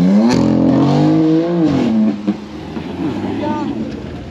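A car engine revs and rises at a classic car meet, loud and nearby, with people talking over the throaty drone as it eases off.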